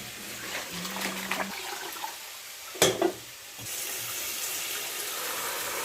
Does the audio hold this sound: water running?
yes